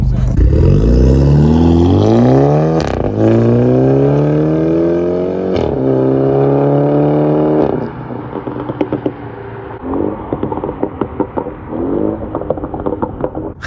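A BMW 330i with a B48 engine, downpipe exhaust and stage 2 tune revs loudly in several long sweeping pulls, then settles into sharp crackling burbles and pops near the microphone, with no talk over it.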